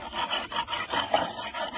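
Barnacles and marine crust are scraped off a fishing speargun, giving a continuous rough rasping scrape with rhythmic strokes, close and moderately loud. No one speaks.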